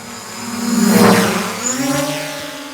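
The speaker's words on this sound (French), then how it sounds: "Qu'est-ce que c'est que ce drone?" A drone flies overhead with a steady whirring drone that swells as it passes close, fades a little, then builds again, loud and with no voices.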